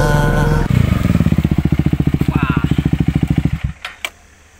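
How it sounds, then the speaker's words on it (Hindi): A KTM 250 motorcycle engine runs in a fast, steady pulsing beat, loud and close. It then cuts out, leaving a few clicks and a quiet tail. "आं नैबे KTM बाइकखौ लानानै फैबाय 250 KTM"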